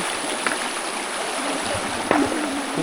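Fast-flowing stream water in a rural natural setting, a steady broadband rush with no break. Now and then a faint clunk or splash sounds over it, and no voices are heard.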